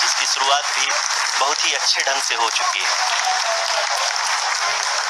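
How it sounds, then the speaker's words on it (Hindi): Applause fills Indian mission control during the Chandrayaan-3 lunar landing on 23 August 2023, a steady dense clatter of clapping under a voice speaking Hindi over a broadcast feed. "आप तालियों के गड़गड़ाहट से सुन सकते हैं"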